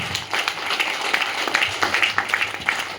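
Audience applause at a conversation event in Chandigarh, a dense patter of many hands clapping steadily for a few seconds at moderate distance, with no talking over it.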